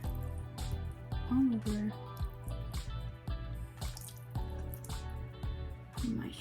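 Tie dye liquid is poured over a pair of shorts in small splashing drips and trickles, mostly buried under close, continuous talking.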